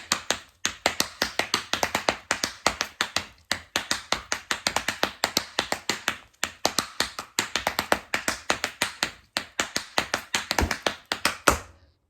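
Rapid, crisp tap shoe strikes in a dense, continuous rhythm of a time step, loud and close, with a brief pause near the end and no talking.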